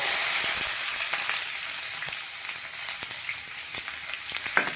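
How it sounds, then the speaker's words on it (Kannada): Chopped onions sizzle and hiss loudly in hot oil for shavige bath, with faint crackles and pops near the pan and no talk over it. "ಈಗ ನಾನು ಈರುಳ್ಳಿ ತೊಗೊಂಡಿದ್ದೆಲ್ಲ ಈರುಳ್ಳಿ ಹಾಕ್ತಾಯಿದ್ದೀನಿ"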